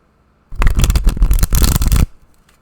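A deck of tarot cards is shuffled close up in one continuous burst of riffling and flicking that lasts about a second and a half, then stops abruptly.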